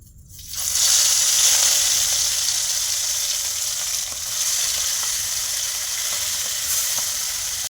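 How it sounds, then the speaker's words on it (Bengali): Fish fried in hot mustard oil in a kadai sends up a loud, steady, close sizzle that starts abruptly and keeps hissing without a break for several seconds, with no talking. "তেল গরম হয়ে গেছে, মাছটা ভেজে নেবো।"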